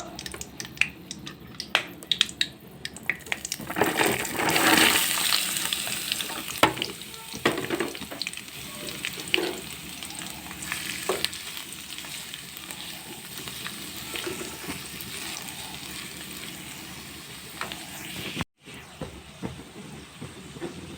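Onions sizzle and crackle steadily in a hot pan for paneer masala, with occasional stirring scrapes and sharp pops throughout.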